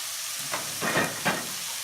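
Beef with chillies frying with sugar and ground black pepper gives a soft hiss and sizzle, with three short swells of sound from stirring.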